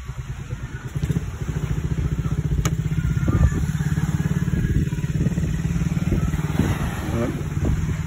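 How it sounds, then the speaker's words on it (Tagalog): Motorcycles in a windy village steadily idle and putter with a low, even engine drone and a slight lift in the middle, while people talk over the noise nearby. "May mga motor dito."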